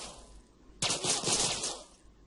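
A single sharp gunshot bursts in a GTA San Andreas gunfight at a casino and rings out with a decaying tail, preceded by a quiet low background.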